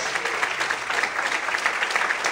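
Church congregation clapping steadily for the Lord during an evening worship service, a dense, continuous wash of many hands filling the room at close range with no voices over it.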